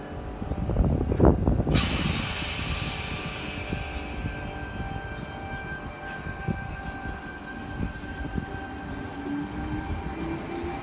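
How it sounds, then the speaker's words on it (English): A Sydney Trains Tangara electric train departs a platform at Mortdale, a sharp burst of air hiss followed by a fading whine and rolling wheel noise as it pulls away, heard from the platform at moderate distance. "And Tangara departing platform number 1 for a Hurstville service."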